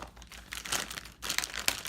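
Plastic packaging bags crinkle and rustle as a Neewer 160 LED light kit is unpacked, a close, continuous crackling with louder bursts and no talk.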